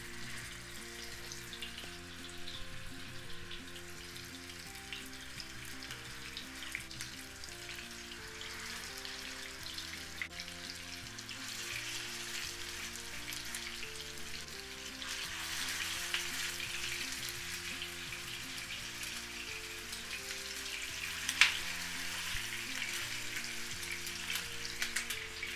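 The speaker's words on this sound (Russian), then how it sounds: "Котлеты буду жарить по 3-4 минуты с каждой стороны до золотистого цвета." Meat cutlets frying in a pan over medium heat, a steady dense sizzle and crackle close by throughout, with faint scraping and no voices.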